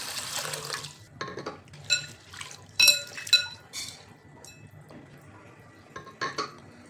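Chana dal is washed in water: close splashes, trickles and sloshing in a vessel come in irregular bursts, with small clinks from the container.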